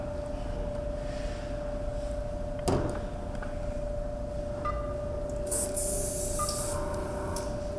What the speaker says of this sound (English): spray it in my airbrush